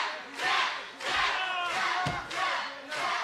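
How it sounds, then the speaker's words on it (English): Wrestling arena crowd at a Triple Crown Championship match roars and cheers loudly in swelling waves, with dull thuds from the ring between surges. "Listen to this crowd."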